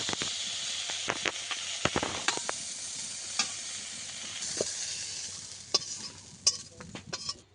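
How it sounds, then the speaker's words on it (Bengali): Oil hisses and crackles steadily as prawns fry close by, punctuated by sharp pops and clicks of a spatula against the pan. "এইভাবে চিংড়িটা ভেজে নিয়েছি"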